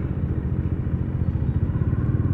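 A Kawasaki Ninja 1000 motorcycle engine rumbles low and steady nearby in traffic, its pulsing throb continuous through the short stretch.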